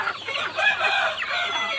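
A busy flock of chickens clucks and chatters continuously nearby, overlapping calls forming a dense, lively din.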